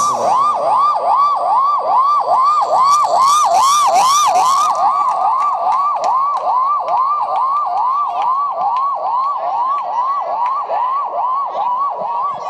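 A loud voice mimics an ambulance siren, repeating a rapid rising-and-falling wail in a steady rhythm for several seconds.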